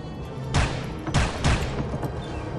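SMG gunfire from the video game Soldier of Fortune sounds in three loud bursts, with a fainter crack at the end and no talking.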